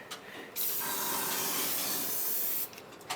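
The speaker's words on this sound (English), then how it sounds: "I'm going to need to crawl into the back as well and give it a good old spray" Cavity wax sprayed into the body of a Frogeye Sprite, a loud continuous hiss of aerosol spray lasting about two seconds with quieter moments at either end.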